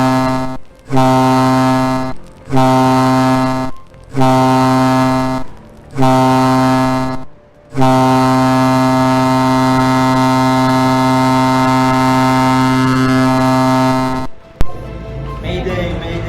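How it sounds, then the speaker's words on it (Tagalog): A ship's abandon-ship alarm during a cargo vessel drill blares loudly in a series of long tonal horn blasts separated by short gaps, followed by one sustained blast and then an abrupt stop. "Sound the abandon ship alarm."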